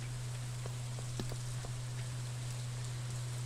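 Soft, steady patter of rain in Stardew Valley, a faint even hiss with scattered light drop ticks, heard alone over a constant low electrical hum.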